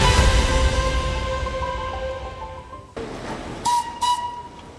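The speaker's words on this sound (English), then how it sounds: "The Darjeeling Himalayan Railway isn't just a stretch of tracks." Darjeeling Himalayan Railway train, a historic hill railway in northeast India, rumbling with steady wheel noise, then a short pause followed by two brief bright whistle blasts close by, with no voices.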